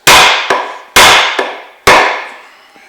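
Three loud, ringing hammer blows drive a wooden handle further into an axe head, each sharp strike followed by a lighter rebound tap, close up with no talking.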